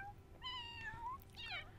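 A cat meows twice in The Sims 4, the cries clear and close against a low steady game hum.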